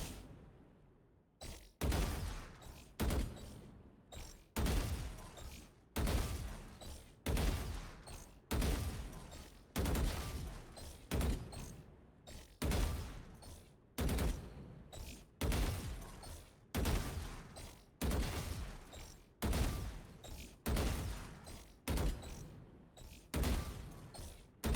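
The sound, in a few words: gunfire shooting bots in Valorant video game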